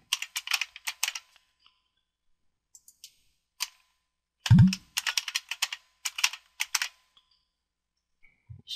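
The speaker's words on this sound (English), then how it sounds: "I guess I've made an error in typing in the password." Bursts of clicky keystrokes on a computer keyboard as a password is typed into a Debian/Ubuntu 12.04 setup, quick clustered taps with short pauses, close and clear, with no talking.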